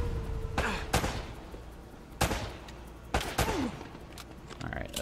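Bursts of AK rifle gunfire in Uncharted: Drake's Fortune, a few sharp separated volleys cracking out over a steady game background, close and loud.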